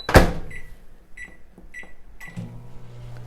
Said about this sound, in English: Let me pop it in the microwave for a second here.